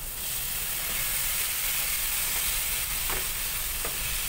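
Chicken pieces returned to a pan of frying tomatoes, a steady loud sizzle and hiss throughout with a couple of faint scrapes from stirring.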